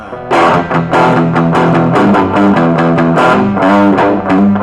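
Loud, heavily distorted electric guitar through a JOYO MA-10E amp, gain near maximum, plays chunky rhythmic chords with a gritty, saturated tone, no voices.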